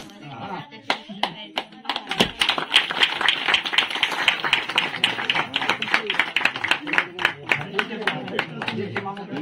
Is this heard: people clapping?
yes